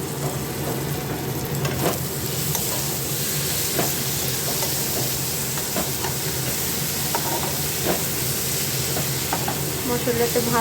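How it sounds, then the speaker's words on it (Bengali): Masala paste of ground ginger and garlic fries in oil for malai chicken, giving a steady, close, broadband sizzle with scattered stirring scrapes and clicks throughout, no voices. "মশলাটা ভালো সাঁতলানো হয়ে গেছে।"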